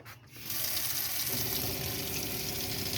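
After a brief quiet moment, the kitchen tap in a 2019 Sprite Super Quattro DB motorhome starts running hot water, a steady, close hiss and splash that continues evenly.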